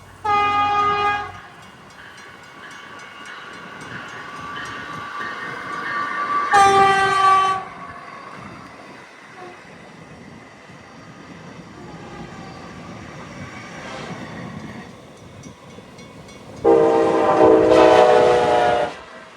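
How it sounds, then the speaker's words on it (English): Amtrak's Next Gen Acela and a Northeast Regional meet on the Northeast Corridor, with loud harmonic horn blasts at the start, middle and end over a continuous rumble of passing trains. "We happen to be at the right place at the right time to witness a meet between an eastbound Next Gen Acela and a westbound Northeast Regional."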